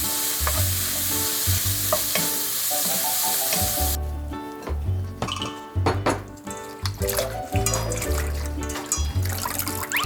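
Food is stir-fried in a hot pan: loud sizzling broken by repeated scraping and stirring strokes in an uneven rhythm, with a low background hum underneath.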